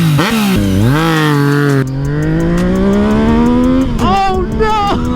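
Motorcycle engine revving hard with the throttle, loud and close, pitch rising and sliding through several surges, with a voice speaking over part of it.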